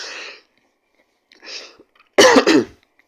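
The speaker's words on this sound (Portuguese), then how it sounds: "a vontade de tossir" A few short, sharp coughs, the last pair loudest and close together, with brief silences between, close and without speech.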